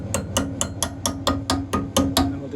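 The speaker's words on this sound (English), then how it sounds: "gently tapping away" A hammer taps gently on a Ford Cortina Mk3 steel body panel during B-post repair, about ten light metallic knocks in an even, quick rhythm, close and fairly loud, with no voices.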